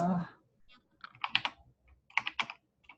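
Computer keyboard typing during an online meeting, two short bursts of quick, close key clicks separated by quiet pauses, with a brief voice fragment at the start.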